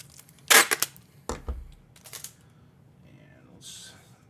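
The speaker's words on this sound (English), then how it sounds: "then I hit the tape gun again" Packing tape from a tape gun being pulled and stretched over a sports card package, with sharp ripping bursts and a low thump, then quieter rustles and a brief screech of tape near the end.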